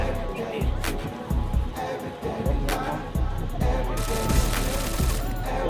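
Gunshots in the mobile shooter game Free Fire, rapid bursts of sharp cracks repeating throughout, mixed with game sounds and a speaking voice.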